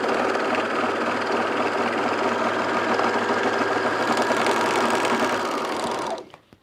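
A serger sewing machine stitches fabric in one steady, loud, continuous whir that runs unbroken for about six seconds, then stops abruptly with a couple of faint clicks.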